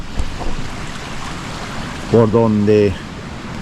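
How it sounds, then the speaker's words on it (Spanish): A stream flows beneath an old flour mill in the countryside with a constant broadband rush and wind buffeting the microphone, while someone briefly speaks over it near the end. "pasa el agua por debajo del molino"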